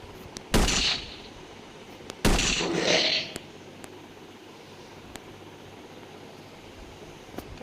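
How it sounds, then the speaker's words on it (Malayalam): Sniper rifle fire in a zombie shooting video game: two loud, sharp shots with short decaying tails, followed by faint scattered clicks against a quiet background. "നമുക്കിനി ഇവിടെ നിന്ന് സ്നൈപ്പ് ചെയ്ത് വെടിയേക്കാം"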